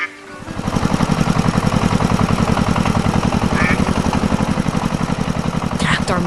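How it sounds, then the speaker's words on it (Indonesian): A red tractor engine revs up and settles into a steady, loud, rapidly pulsing chug as the tractor starts moving, running continuously throughout. "Traktor merah mulai bergerak"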